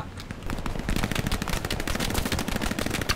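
Sustained rapid machine gun fire in the World War II shooter Hell Let Loose, loud and close, a dense unbroken stream of shots running throughout with no talk.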